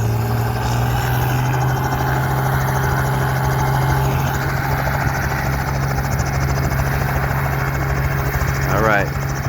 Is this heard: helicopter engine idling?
yes